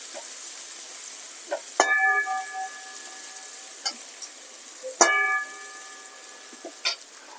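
Garlic, ginger and chili fry in a pan with a soft, continuous sizzle, punctuated by a few sharp metallic clinks of a utensil against the pan.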